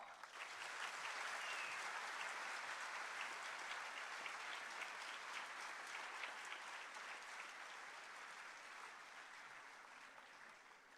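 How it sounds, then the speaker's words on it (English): A large audience applauds the inauguration of an IT block, dense continuous clapping that stays strong for over ten seconds and then slowly thins toward the end. "a huge round of applause because this is the inauguration of the IT"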